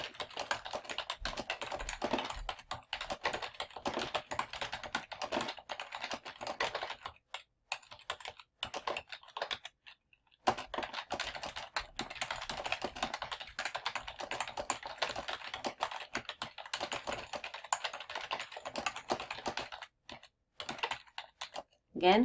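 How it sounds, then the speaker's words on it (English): Typing on a computer keyboard, rapid dense clatter of keystrokes in bursts with a few brief pauses, close and fairly quiet, no talking over it. "Then I can click on the end and continue typing."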